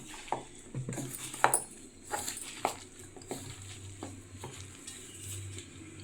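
Chicken garelu ingredients get mixed by hand or spoon in a bowl, giving soft, irregular squelching and scraping with a few sharper clinks, close and fairly quiet over a low background hum.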